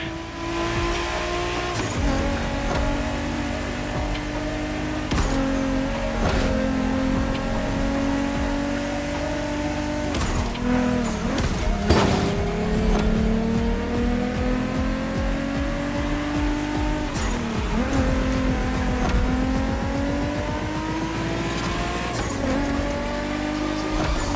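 Race car in The Crew Motorfest, engine revving loud and close through repeated gear shifts and rising surges, with tire squeals and skids cutting in between accelerations, no speech.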